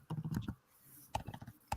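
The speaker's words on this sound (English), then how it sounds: "Are you typing them all in, James?" Someone types on a computer keyboard in quiet bursts of soft clicking keystrokes, with a short pause between flurries, faint and close with no talk.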